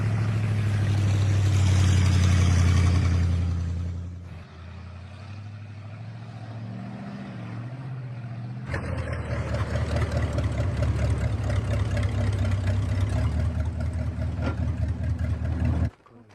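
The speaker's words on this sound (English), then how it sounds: "Don Martin takes his and Wilfredo's harvest back to the village on his 1952 Dodge Transporter" A 1952 Dodge Transporter truck carrying a salt harvest to a village, its engine running with a steady low rumble and idling drone that dips briefly, then returns louder and rougher, continuous and close throughout.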